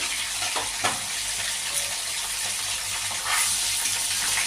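Fish pieces frying in hot oil in a pan, a steady close sizzle with faint crackle and a couple of brief clatters, no voices.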